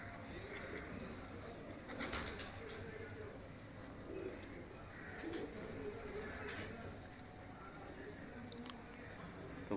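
A pigeon cooing softly while being handled and treated for a crop illness, faint low coos repeating over background noise with occasional handling sounds.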